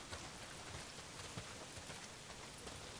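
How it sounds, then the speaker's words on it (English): Heavy rain pours down steadily in the video game Days Gone, a dense, even hiss with no pauses and no voices. "Well, not if it's pissing down rain."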